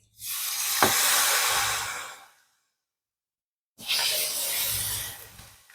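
Korean LA galbi ribs land on a hot pancake griddle with two loud, broad sizzling hisses, each lasting about two seconds, separated by a short silence.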